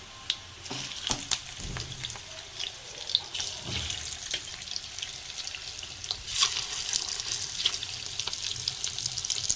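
Eggs sizzle in a hot pan for a garlic egg fry, a steady crackling hiss with scattered pops and clinks throughout, close and moderately loud, with no talking.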